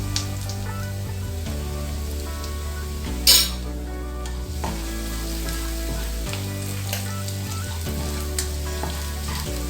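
Half-softened onion with a spoon of chili powder fries in a pan with a continuous close sizzle, broken by regular stirring scrapes and one sharp clatter.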